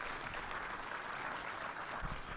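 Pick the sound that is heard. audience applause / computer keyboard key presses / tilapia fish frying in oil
audience applause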